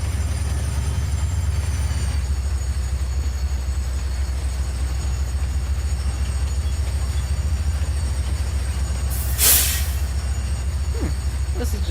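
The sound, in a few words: train running on a railroad in Farming Simulator 25 video game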